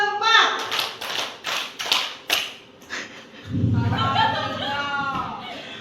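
A classroom group claps in a counted pattern, several sharp separated claps in a row, then a teacher's voice takes over.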